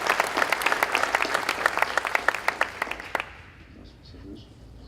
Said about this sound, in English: we'd like to give them another round of applause